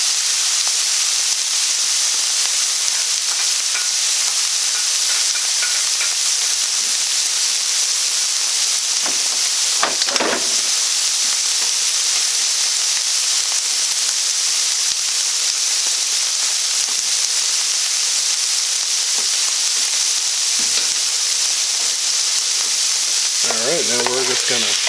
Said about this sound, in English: let this fry up in the frying pan, get a good color to it